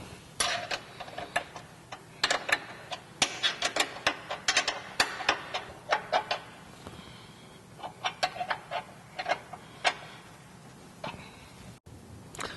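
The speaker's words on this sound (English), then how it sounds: "Go ahead and tighten all bolts with a 16mm wrench." A 16mm wrench tightens bolts on a Jeep JL/JT winch plate for an OEM steel bumper, a run of quick, sharp metallic clicks and ratcheting taps in uneven bursts, close and fairly quiet with no talk.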